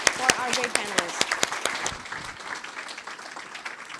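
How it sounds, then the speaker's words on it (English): A conference crowd applauds a panel at an AI and semiconductors session, with clapping under a speaker's voice at first before the talk drops away and scattered hands keep clapping more softly. "a big round of applause for our great panelists"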